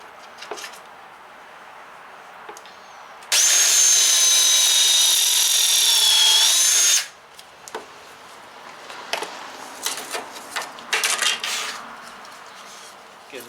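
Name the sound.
drilling a hole through wood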